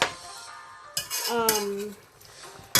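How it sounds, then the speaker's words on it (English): A spoon clanks against a pot while venison curry stew is stirred, with a few sharp metallic knocks and scrapes, close and brief. "Now, let me give this a stir."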